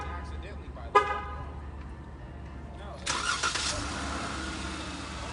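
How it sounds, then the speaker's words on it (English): A brand-new Mopar truck being remote started: a short burst of starting noise around the one-second mark, then the engine catching and running louder at moderate distance under a low steady rumble, with a person talking nearby. "Let's remote start this bitch, huh?"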